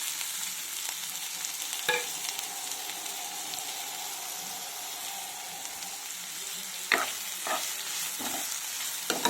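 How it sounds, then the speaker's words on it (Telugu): Sliced onions with slit green chillies sizzle steadily in a pan, a constant close hiss with a few sharp scrapes and clinks of a spoon now and then. "ఇవి ఫ్రై అవ్వాలండి బాగా"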